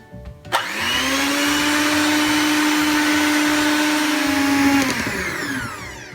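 An electric mixer beats cookie dough cupcake batter in a bowl, switching on with a click into a loud, steady whine that holds for several seconds, then winds down near the end.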